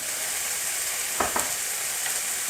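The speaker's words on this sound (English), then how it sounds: "now we are going ahead and sauteing garlic, diced onions, mushrooms" Garlic, diced onions and mushrooms sautéing in a pan, giving a steady close-up sizzle with a couple of quick stirring scrapes partway through.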